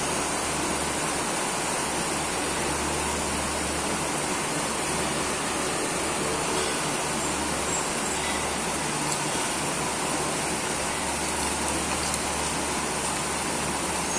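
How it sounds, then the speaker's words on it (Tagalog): Water falls and overflows inside a used oil stove fitted with a flat bar ring as a semi-splash guard, making a dense, steady rushing hiss that holds constant for about fourteen seconds without talk. "Ayan, nagbabagsakan na yung tubig."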